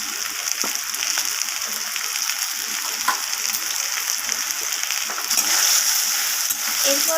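Taro stolons sautéing with ground spices, green chilli paste and cumin in a pan, giving a continuous close, even sizzle with occasional soft scraping ticks and a slight swell toward the end.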